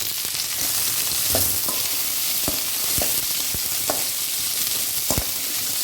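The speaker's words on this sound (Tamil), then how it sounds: "எடுத்து வச்ச வெங்காயத்தை எல்லாத்தையுமே நல்லா போட்டு வதக்கிக்கோங்க" Chopped onions sauté in hot oil for tomato chutney, a steady close sizzle of frying with scattered clicks and scrapes of a spoon stirring the pan, no voices.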